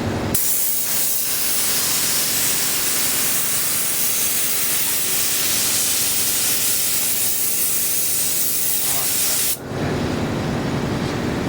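An old DeVilbiss spray gun spraying with its trigger squeezed, a loud continuous close hiss of atomised spray that holds steady for about nine seconds, then cuts off.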